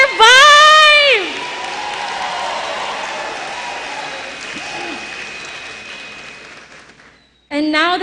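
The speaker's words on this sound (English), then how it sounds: "I would like to give this moment for everyone to clap their hands for each other and for themselves" Graduates at a commencement exercise clap and cheer: a loud whooping shout opens over a broad wash of crowd applause that gradually fades, before another voice breaks in at the close.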